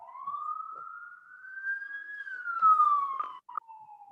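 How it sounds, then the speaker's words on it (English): A police siren passes outside a window, a single long rising-then-falling wail heard fairly faintly through the room, with a few small knocks near the end. "we can edit out the siren that just went by outside my window"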